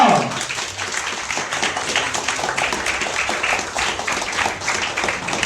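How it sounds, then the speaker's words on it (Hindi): Audience clapping to welcome a team onto the stage at a primary-level Hindi quiz semifinal, a steady dense patter of many hands lasting throughout without pause. "आप जोरदार तालियों से स्वागत कीजिए सबसे पहले टीम का।"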